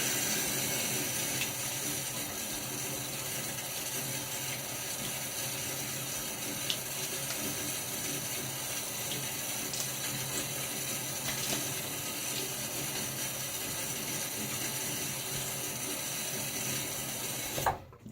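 Tap water runs steadily into a sink for a post-shave rinse, a constant close splashing hiss lasting the whole stretch and cutting off abruptly at the end.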